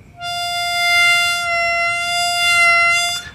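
A single sustained harmonica note on hole 5, drawn with a bend that barely lowers the pitch but gives a gentle wavering tone, loud and close, lasting about three seconds before it stops.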